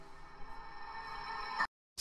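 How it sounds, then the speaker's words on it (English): A reversed reverb swell on a psytrance vocal in Ableton rises gradually in a smeared, sucking wash, cuts off abruptly into silence, then another sound begins. "So we have here probably the reverse reverb"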